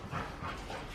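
Dogs play together with a single rope toy, giving close, short whimpering and yipping vocal noises in a quick continuous burst.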